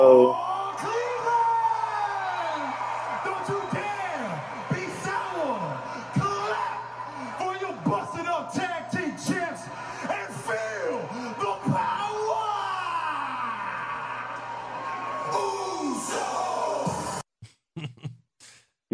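Wrestling crowd at a WWE SmackDown segment cheering, whooping and yelling in a sustained arena roar, with rising swells of excited voices over a steady hum before cutting out near the end.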